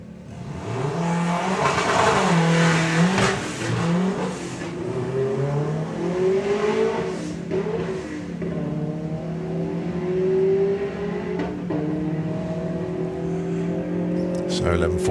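Graham Fairhead's fastback drag car making a run at the STP National Finals, a loud engine revving and climbing through gears with rising, sweeping pitch, heard beneath an announcer's continuous commentary.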